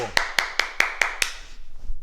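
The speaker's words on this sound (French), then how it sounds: "Et on s'applaudit, bravo" Six sharp, evenly spaced claps from a karate class applauding themselves in unison, ringing briefly in the room before fading into quiet.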